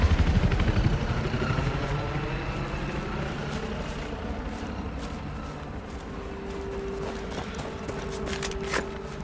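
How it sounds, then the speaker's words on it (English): An attack helicopter closes in during Battlefield 4 gameplay, a steady, heavy rotor-and-engine rumble that fills the scene and holds at a constant loudness, with a few sharp knocks and clatters scattered through it. "Watch out. Incoming helo."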